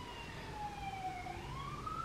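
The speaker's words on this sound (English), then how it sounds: "We hear the sirens." A siren wails continuously, its pitch sliding down and then rising again, heard at moderate distance over a low rumble.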